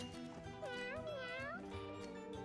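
A cartoon cat in the video game Mewgenics gives a drawn-out, wavering meow with rising and falling pitch, heard fairly faintly over quiet game audio.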